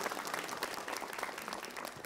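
Steady applause from a religious lecture audience, a dense wash of many hands clapping, fairly faint and distant, continuing evenly throughout without a break.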